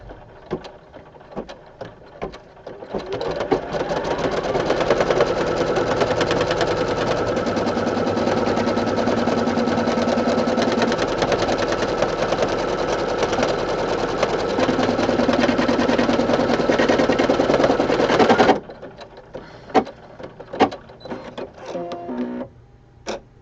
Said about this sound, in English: Cover the area with the material and run a tack down stitch.